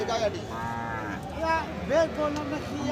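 A cow lowing at a busy livestock market, several drawn-out moos rising and falling over crowd murmur and nearby talk.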